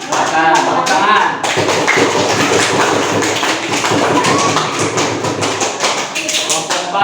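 Children in a classroom clap for a group's drawing of a Hindu place of worship, a loud, busy patter of many small hands mixed with thumps and children's voices throughout.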